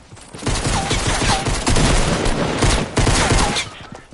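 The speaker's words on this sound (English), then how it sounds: "I was getting shot from nowhere." Dense rapid gunfire from the video game Fortnite, with rattling bursts and overlapping shots that crackle loudly and almost without pause.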